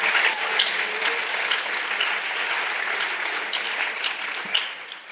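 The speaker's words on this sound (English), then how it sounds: "So I think Maggie deserves a round of applause." A school morning-meeting audience gives a round of applause, dense and sustained clapping for several seconds that tapers slightly at the end, with no voices on top.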